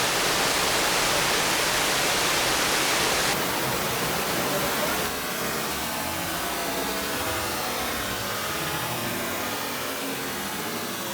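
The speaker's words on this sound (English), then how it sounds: "Rainstorm! Rainstorm," A simulated rainstorm pours onto a waterproof iPhone 8 Plus, a loud, steady hiss of dense water spray close by that drops slightly in intensity partway through, with no voices.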